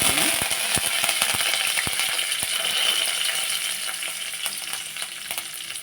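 Chana dal hits hot oil in a pan for an okra palya, crackling in a loud, dense sizzle with rapid sharp pops and spatters scattered over a continuous frying hiss that eases slightly toward the end.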